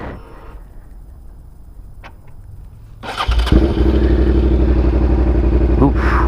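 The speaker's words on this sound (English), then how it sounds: "Start the bike." A Suzuki SV650S motorcycle engine cranks over and catches around midway, then settles into a steady, loud close-up idle rumble after a quiet stretch of faint handling noises.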